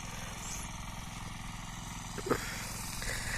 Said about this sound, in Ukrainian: Мотоблок помаленьку їде.